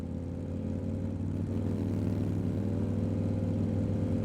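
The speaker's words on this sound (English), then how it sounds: "She rides a motorbike." A steady motorbike engine running continuously, a low throaty drone with slight pitch shifts as it revs, fairly close and loud throughout.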